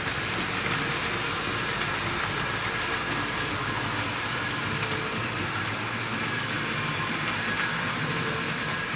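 A Wrenn model locomotive pulling Pullman coaches runs along Tri-ang Super 4 track, giving a steady, fairly quiet rolling hiss and rumble that continues evenly throughout with no talking.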